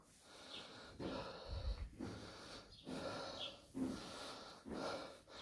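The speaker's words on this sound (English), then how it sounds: "There, good cough. Cough some of that stuff out of there." A newborn calf, just delivered in an assisted birth, breathes in a run of harsh snorting, wheezing rasps and coughs, five or six close bursts repeating about once a second.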